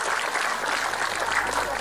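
An audience at an Islamic religious lecture gathering in Sukorejo, Ponorogo, gives a short burst of close, dense clapping that stays even throughout.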